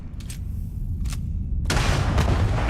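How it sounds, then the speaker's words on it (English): Grenade blasts in the Starfield video game: two short booming bursts followed by a heavier, sustained explosion with rumbling debris, loud and close. "Let's throw some nades down."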